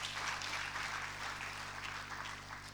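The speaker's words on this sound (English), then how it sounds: "Can we again give them a round of applause?" An audience gives a sustained round of applause at an NIAE gathering after an hour of serious engagement. The dense clapping runs steadily from start to finish, fading slightly at the end, with no voices over it.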